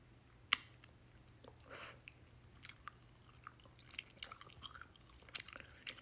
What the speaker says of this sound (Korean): 이거 씹는 맛을 먹는데?